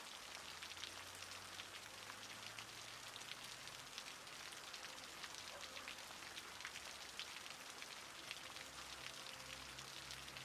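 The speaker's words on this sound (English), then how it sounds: "We'll just sit here and listen to the rain pitter-patter." Steady rain pattering across surfaces in the city-building game Cities: Skylines, a dense, even hiss of drops with no pauses or voices.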